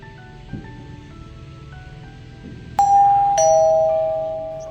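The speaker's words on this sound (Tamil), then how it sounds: "காலிங் பெல் அடிக்குது" An electronic doorbell chimes a clear two-tone ding-dong over a quiet indoor background with faint soft sounds, the second note ringing out and slowly fading.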